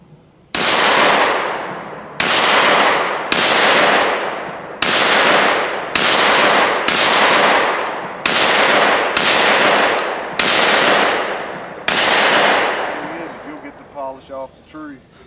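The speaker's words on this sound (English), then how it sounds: "we're shooting Federal Top Gun 1200 feet per second, three inch?" A Mossberg 940 JM Pro semi-automatic shotgun fires Federal Top Gun three-inch shells outdoors, about ten loud, sharp blasts in a steady rhythm with ringing decay. A voice follows briefly at the end.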